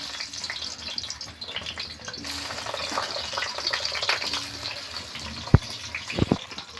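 Potatoes dropped into hot oil set off a steady hiss of frying that swells after a couple of seconds and keeps bubbling, with a few sharp clinks of utensils near the end.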